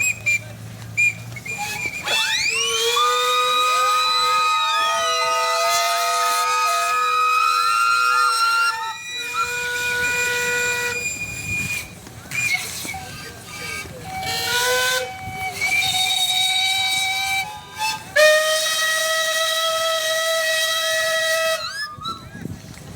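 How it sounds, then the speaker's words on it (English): Many steam engine whistles blow together at a steam rally parade in a long, loud, overlapping chorus of shrill, sustained tones with hissing steam, starting and stopping in waves. "give me a blast on all your whistles"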